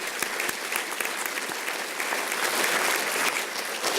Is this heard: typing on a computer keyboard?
no